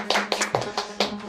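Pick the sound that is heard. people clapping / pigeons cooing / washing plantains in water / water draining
people clapping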